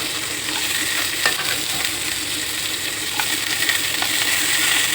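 Potatoes and chillies frying in a pan, a steady close sizzle with occasional scrapes and taps of stirring, no talk.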